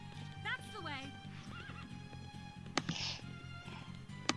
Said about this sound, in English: I'm on a fucking horse